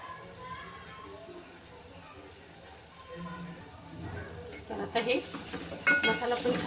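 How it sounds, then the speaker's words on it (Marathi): Ground masala paste frying in oil for a potato curry, with a soft steady sizzle that builds toward the end, along with stirring and clinks of a spoon against the pot. "तेला त्याला भाजून घेऊया छान तेल सुटेपर्यंत"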